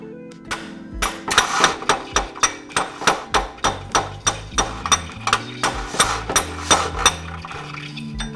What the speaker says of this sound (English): I crawl underneath and tap the starter with a hammer.